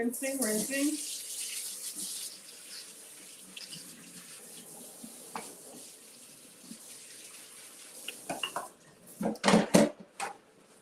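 A running kitchen tap splashes steadily while dishes are rinsed beneath it, with occasional clinks of plates and cutlery and louder clattering near the end, and a voice speaks briefly over the water.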